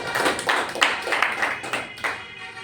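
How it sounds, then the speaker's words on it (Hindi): Sustained applause from an audience at a health awareness event, a dense steady clatter of many hands clapping that swells in repeated bursts and carries on throughout. "एक बार आपके लिए जोरदार तालियां बजा सकते हैं।"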